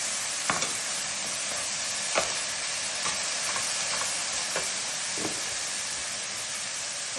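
Chopped onion fries in olive oil in a hot pan with chicken, giving a steady, loud, dense sizzle with occasional soft stirring clicks and scrapes.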